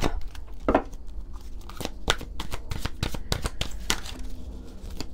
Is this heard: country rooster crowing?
no